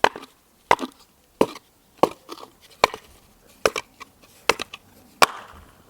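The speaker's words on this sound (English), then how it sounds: "I'm going to risk smashing the bottom of the pot." Sharp repeated knocks and cracks as the bottom of a cement bonsai pot is smashed, about nine hard strikes at an uneven pace, close and loud with short gaps between blows.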